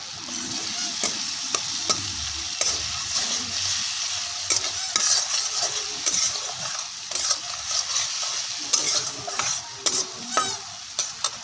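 Spices sautéing for vegetarian ghugni, a continuous close sizzle punctuated by repeated sharp clinks and scrapes of a spatula stirring the pan; no voices.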